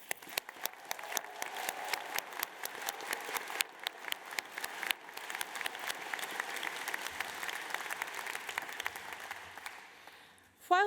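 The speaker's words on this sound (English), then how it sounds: "please join me in a round of applause for our loved ones" A graduation ceremony crowd gives a long round of applause, many separate hand claps rising and thinning out over about ten seconds before a voice returns at the end.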